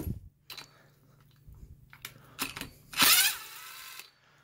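Impact wrench rattles off a nut on the spindle of a DeWalt 7-1/4 inch worm drive framing saw, driven through a Power Belt Xeon impact socket: scattered short taps and clicks, then one loud hammering burst lasting about a second, close by.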